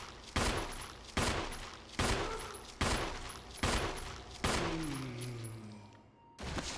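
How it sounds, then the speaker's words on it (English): Shotgun blasts in the Resident Evil video game, Jill playthrough: six loud, sharp booming shots about a second apart, each with a ringing decay, the last followed by a falling whine. "We're gonna use a lot of shotgun shells"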